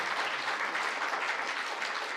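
Audience clapping during a Korean candidate debate, a brief burst of steady, moderately loud applause from the crowd with no voices over it.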